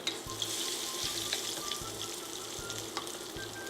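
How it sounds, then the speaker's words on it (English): Fish deep frying in oil at about 320 degrees, a steady close crackling sizzle with bright spattering pops running throughout, without talk. "So we are deep frying, and we're doing it at about 320 degrees right now."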